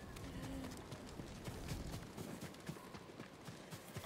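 Hooves clip-clop quickly as a horse runs off in the Ghost of Tsushima video game, a rapid galloping rhythm over a dense, noisy game background.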